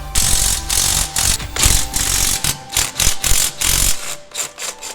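A ratchet with a wobble-head extension and 13 mm socket loosens fuel injector bolts on a Jeep Cherokee, giving rapid repeated clicking bursts, close and loud, with short pauses between turns.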